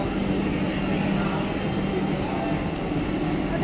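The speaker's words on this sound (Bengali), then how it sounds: "ট্রেন চলে এসছে" A Vande Bharat express train pulls into a station on the Udhampur–Srinagar–Baramulla line, giving a continuous low rumble and rolling wheel noise, with faint voices on the platform beneath it.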